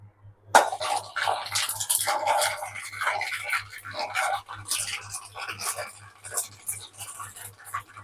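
Mustard seeds popping and sizzling in hot oil for a roasted fennel idli sambar, a busy crackling spatter close by with frequent sharp pops throughout.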